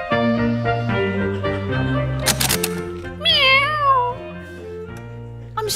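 A cat meows once, a drawn-out, wavering cry rising over loud background music.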